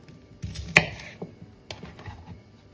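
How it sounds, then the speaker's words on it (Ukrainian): A knife cuts a cucumber into small pieces on a board, giving a few sharp, close chopping knocks at an uneven pace with no talking. "Я розрізаю огірок на 4 частини і ріжу ось такими шматочками."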